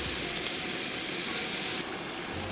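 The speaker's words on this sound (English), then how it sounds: "And while that bacon is sizzling" Steady, dense hiss and crackle of bacon frying in a pan, continuous and fairly close, with no talking.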